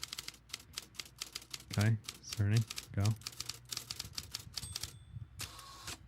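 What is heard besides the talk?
typing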